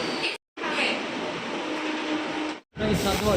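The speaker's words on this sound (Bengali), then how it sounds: "ট্রেন ছেড়ে দিয়েছে" A passenger train pulls out of a station near Santragachi Junction in West Bengal, giving a steady, broad rumble with close rail noise that runs continuously for a few seconds, broken by two short silent gaps.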